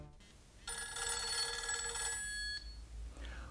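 An old-style telephone bell rings in one steady, bright, continuous trill lasting about two seconds, moderately loud and close, then stops abruptly, with no talking.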